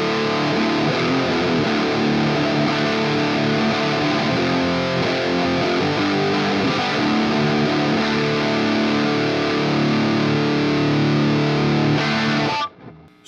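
Overdriven Telecaster played through an Orange amp head with a Classic Rock 57 cabinet impulse response and no speaker impedance curve, a dense distorted riff sustained for roughly twelve seconds before cutting off sharply.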